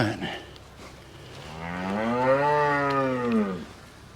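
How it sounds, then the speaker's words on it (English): A single long, loud cow moo swells and fades on a farm as a herd is brought in to meet a heifer, with faint rustling before it. "here comes all the cows"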